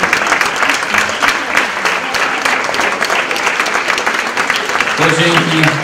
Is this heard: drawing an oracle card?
no